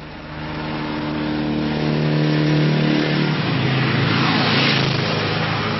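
A motorcycle engine revs loudly and close by, rising in pitch and holding a steady, strained drone for several seconds.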